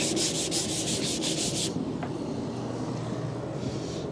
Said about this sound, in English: then we can sand this down